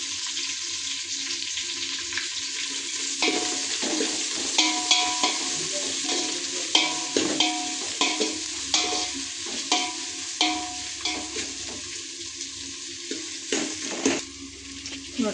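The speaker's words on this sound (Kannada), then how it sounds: "ಇದು ಉಳ್ಳಾಗಡ್ಡಿ ಎಲ್ಲ ಫ್ರೈ ಮಾಡ್ಕೋಬೇಕ್ರಿ." Onions sizzle steadily in a hot pan while a utensil stirs them in regular scraping strokes, the frying hiss continuous underneath.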